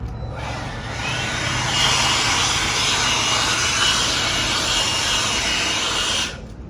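A battery-powered leaf blower blows debris off newly laid Belgard pavers, giving a loud, steady, broad rushing whoosh that runs unbroken for several seconds before cutting off.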